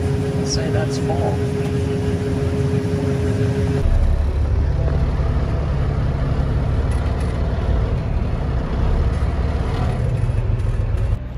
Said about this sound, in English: Truck is backed in.